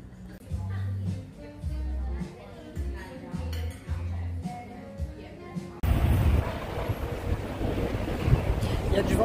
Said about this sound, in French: Il y a du vent, j'espère que tu m'entendras.